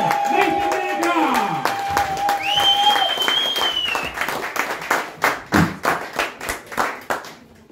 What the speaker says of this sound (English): start clapping your hands, stubby feet, go absolutely wild and welcome to the stage